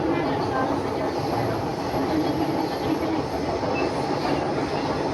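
A steady rumbling roar of a Delhi Metro train in motion, heard from inside the carriage, with a continuous rattle and no pauses.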